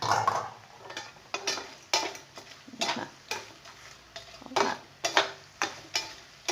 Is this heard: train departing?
no